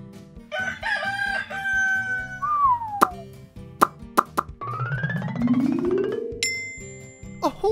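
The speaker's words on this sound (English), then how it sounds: "A rooster." A cartoonish rooster crows with a long rising and falling call, mixed with playful plops and music-like tones, loud and close.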